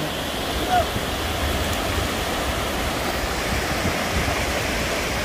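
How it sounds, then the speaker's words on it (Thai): Sea waves wash steadily onto Chao Lao beach in Chanthaburi, a continuous broad roar of surf with no distinct breaks, close and fairly loud. "ทะเลที่สวย บรรยากาศเย็น ๆ ที่หาดเจ้าหลาว จันทบุรีครับผม"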